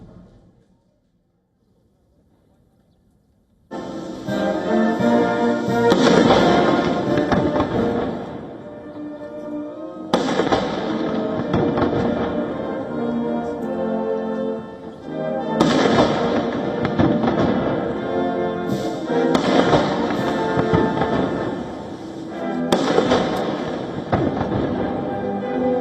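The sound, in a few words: 21-gun salute cannon fire for Trump in China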